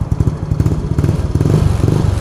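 A Yamaha Mio Soulty scooter fitted with an Exos RX7 pipe exhaust burbles and revs up close, giving a throaty, pulsing exhaust note in quick uneven bursts with no talking over it.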